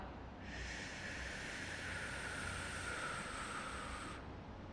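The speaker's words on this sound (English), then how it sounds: "Exhale for 5." A slow, steady exhale during a breathing exercise: a long, even breathy hiss that holds for about four seconds, close and alone.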